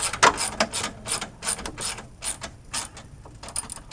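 A hand ratchet tightening a bolt on a 2012 fourth-generation Acura TL alternator, with quick clicking bursts of the pawl in short uneven strokes, close and fairly quiet, no talking.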